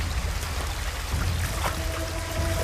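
Water pours in a steady, broad splashing rush with no pauses throughout, close and fairly loud.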